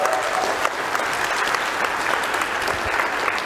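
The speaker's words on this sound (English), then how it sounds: "Y'all just give the Lord a round of applause for the blessings here." A church congregation breaks into steady, dense clapping that holds at an even level for a few seconds, with no voices rising above it.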